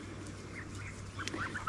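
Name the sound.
young geese calling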